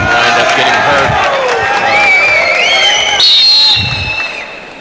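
A crowd at a college wrestling all-star meet in an arena roars and cheers loudly and continuously, with whistles and shrill calls rising over it before the noise fades toward the end; a voice talks over the din.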